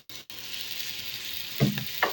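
Bitter gourd (karela) with onion frying in a pan, a steady close sizzle after a brief cut at the start, then two short knocks of a utensil near the end, no speech.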